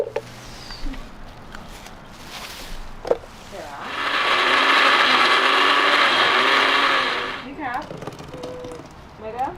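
A blender whirs through onions, scallions and Scotch bonnet peppers for a few seconds, a loud steady grinding roar that starts and stops abruptly, with kitchen clatter and people talking around it.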